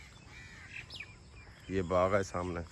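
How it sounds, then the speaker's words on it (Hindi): Songbird calls in a mango orchard, first a faint whistle, then loud repeated cawing bird cries nearby; someone speaks in Hindi briefly before the calls. "ये कोयल बोल रही थी।"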